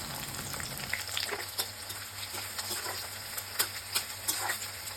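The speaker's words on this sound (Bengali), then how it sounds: "পেঁয়াজগুলো একটু লাল লাল করে ভেজে নেব" Onions fry in oil in a wok for Bengali ghugni, giving a steady sizzle with scattered sharp pops and crackles throughout, close and without speech.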